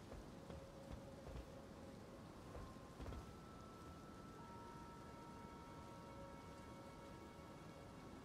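Rain and thunder in the video game Elden Ring: a steady hiss of falling rain with low rolling thunder rumbles beneath, faint and continuous, along with a few thin sustained tones from the game.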